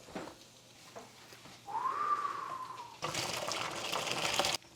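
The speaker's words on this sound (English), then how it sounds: "And let's drain this pasta." Cooked pasta drained in a kitchen: a brief rising whistle-like tone gives way to a loud rush of hot water pouring out, close and steady until it cuts off near the end.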